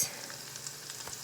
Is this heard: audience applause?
no